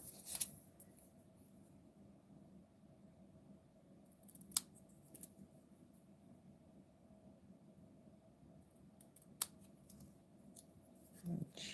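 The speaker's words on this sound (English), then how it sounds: "So now I'm gonna kind of snip these apart. So let me get my scissors." Scissors snip paper in a quiet room during a stamping card craft, giving a few sparse, faint, sharp cuts spaced several seconds apart over a low hum.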